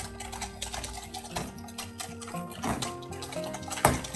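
Hand whisking of cream and vanilla in a bowl, a quiet run of light ticking taps from the whisk against the bowl, fairly close and steady with no talk.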